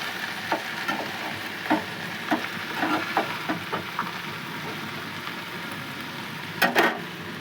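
Red spinach (lal shak) frying with a garlic tempering in a pan, giving a steady low sizzle under scattered stirring scrapes and clatters, with a brighter clink near the end and no talking.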